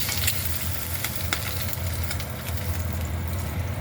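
An egg cooks in a pan for a cheese crispy, giving a continuous close sizzle with a few light crackles and scrapes over a low hum, and no one speaking.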